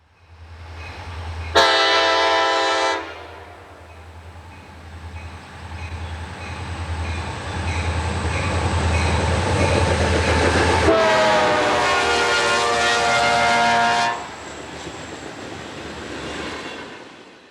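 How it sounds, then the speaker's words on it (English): An eastbound CSX freight train passes at Monocacy, its horn blaring loud and close in two long blasts over a steady rumbling roll of rail cars. "CSX Power is in charge of this eastbound train at Monocacy on its way to Philadelphia."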